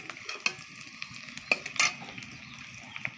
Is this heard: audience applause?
no